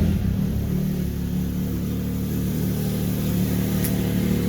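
Can-Am X3 XRS Turbo RR side-by-side with stock exhaust and no catalytic converter idles steadily, a low continuous rumble that stays even and fairly quiet throughout.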